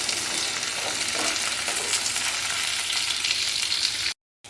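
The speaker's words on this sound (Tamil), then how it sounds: "இப്போ இதை நல்லா ஃப்ரை பண்ணிக்கோங்க எண்ணெயில்." Okra (ladies finger) fries in oil for a tangy kara kulambu: an even, continuous sizzle fills the pan with faint stirring, close and steady, then cuts out abruptly near the end. No voices.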